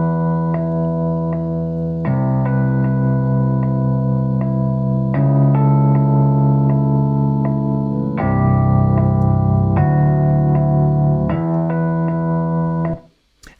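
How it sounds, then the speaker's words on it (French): A Rhodes electric piano VST plays a slow riff of sustained chords, each change ringing out with a warm, wavering tone and reverb before cutting off abruptly at the end. "Le Rhodes, en gros, c'est ce qu'on entend dès le début du titre"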